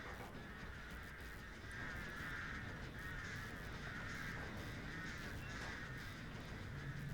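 Crows caw repeatedly in Dead by Daylight, a harsh, steady flurry of cawing over a low ambient game rumble, with no talking.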